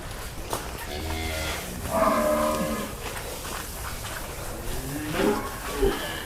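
Cattle moo on a farm raising sacrificial cows, with several drawn-out lowing calls near and at mid-distance amid steady barnyard noise and occasional voices.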